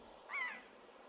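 A single seagull cry sounds in The Legend of Zelda: The Wind Waker HD, one short wavering squawk rising over a quiet background and fading within half a second.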